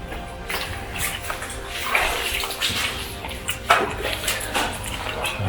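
Someone wades through roughly knee-deep water inside an old flooded mine, producing continuous sloshing and splashing with periodic louder surges from each step, close and echoing.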